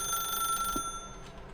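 A telephone rings in The Stanley Parable video game, a quiet electronic ringing tone that cuts off partway through, faint and alone without talk.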